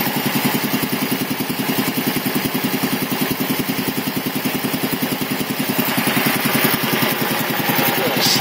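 Quincy QR 325 air compressor with a large pump weighing about 295 pounds, running with a loud, fast, even mechanical chug and hum that holds steady throughout.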